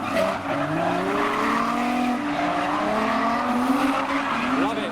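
Car drifting at a tuner car show, tires squealing continuously and loudly with engine revving underneath, the screech wavering in pitch as the car slides.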